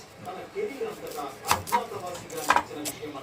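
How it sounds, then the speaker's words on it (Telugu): A knife chops onions on a board for street-style onion samosas, a few sharp, separate cuts heard under someone talking nearby. "ఈలోపు అయితే మన సమోసాకి ఆనియన్స్ కట్ చేసేసుకున్నాం"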